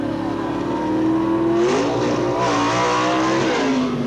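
Near-stock drag racing cars roar in a Boundary Bay Raceway match race between Bill Jenkins and Dick Landy, engines revving loud and close with a rising pitch as they launch and pull away, alongside faint tire squeal.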